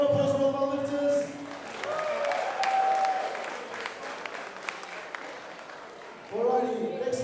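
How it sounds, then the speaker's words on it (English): Crowd applause for the lifters at a powerlifting team championship, clapping under a speaker's voice at the start, then a broader spread of applause that fades before talking resumes near the end. "round of applause for all of our lifters"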